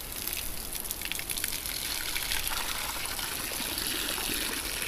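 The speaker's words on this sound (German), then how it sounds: "Also das muss irgendwo hinlaufen können, das Modderwasser." Muddy water drains out of a duck pond in a steady, moderately loud gushing and trickling flow that continues without pause and without any talk.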